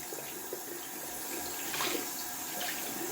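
A shaving brush with a big dense knot rinsed under a running bathroom tap, a steady close hiss of flowing water with slight splashing swells as the brush moves through the stream.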